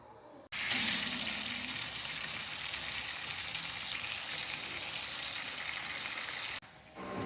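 Ears of corn washed under a running tap, giving a steady, close rush of water that starts abruptly, holds for about six seconds and cuts off.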